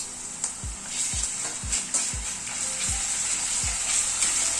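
Garlic paste and green chillies fry with onion in a pan, giving a steady close sizzle broken by a regular series of soft spatula knocks.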